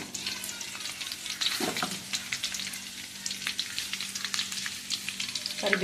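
Close, steady sizzle of mustard seeds, garlic and curry leaves frying in hot oil, with crackling pops and a spoon stirring now and then.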